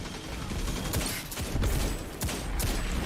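Rapid, dense gunfire and weapon mechanisms from a live PvP match in the video game Destiny 2, with loud, continuous shooting filling the whole short stretch without a break.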